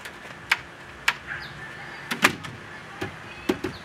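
A repaired RV screen door is worked open and shut, giving a series of sharp clicks and clacks from the latch and frame, close and moderately loud against a quiet background.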